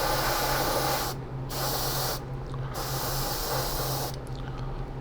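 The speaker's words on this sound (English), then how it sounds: "You're going to spray over the new primer, and then you're going to bring it back a little into the old paint." Aerosol primer sprayed over a 1/25 scale AMT 1962 Thunderbird model car, a steady close hiss running in several bursts with brief pauses between them over a low background hum.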